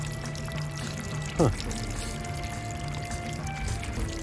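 Water pours out of the tank of a 1946 Farris Banks-Morse hit-and-miss engine in one short gurgling rush, set against a steady hum, with a man briefly voicing a reaction.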